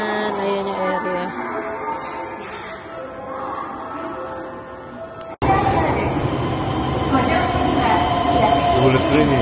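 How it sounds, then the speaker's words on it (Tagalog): The Keisei Skyliner train in Japan hums and rumbles from inside, quieter at first, then a sudden cut to a louder steady roar of the moving train, with background music and voices. "This train is the Keisei Skyliner."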